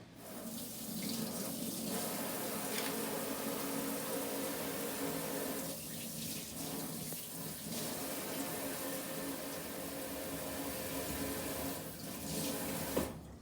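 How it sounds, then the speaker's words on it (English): A steady stream of running tap water splashes into a sink as brined Lake Michigan fish is rinsed before smoking, continuous and close with slight shifts in flow, no voices. "The first thing we need to do is give it a shower, pat it dry, and leave it to sit for an hour."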